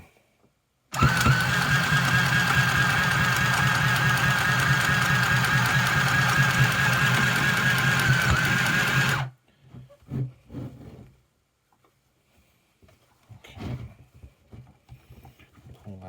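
A mini sewing machine run by a foot pedal stitches continuously for about eight seconds, a loud steady whirring buzz that stops abruptly, followed by faint handling clicks and rustles.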